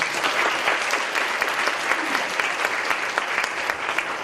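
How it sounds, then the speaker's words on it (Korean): An audience at a theological university lecture applauds to welcome two guests, a dense, loud, sustained wash of clapping from many hands that holds steady throughout, with no speech over it. "두 분 박수로 맞아주십시오."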